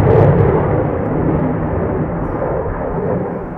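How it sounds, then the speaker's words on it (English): A military jet roars past at an air show, a loud, steady, broadband rumble that fills the whole stretch and eases only slightly toward the end. "That is louder than any commercial jet, even a 777 taking off in Atlanta."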